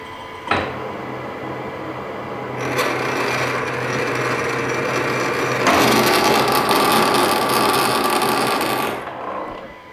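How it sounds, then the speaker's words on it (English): A Harrison universal milling machine cutting a table nut, giving a loud, steady grinding whir of metal cutting that starts after an initial clank, swells midway and holds, then tapers off near the end, with no talking. "So we're going to make a quarter of a millimeter cut plus whatever spring was left in the bar."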